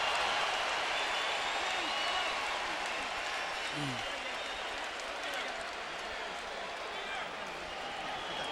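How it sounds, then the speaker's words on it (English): A boxing crowd at the Floyd Mayweather vs Carlos Baldomir fight cheers Baldomir, a constant roar of applause and shouting filling the arena, with voices talking over it. "they cheer Baldomir for his effort"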